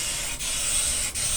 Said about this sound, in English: high strength spray adhesive to both parts of the seat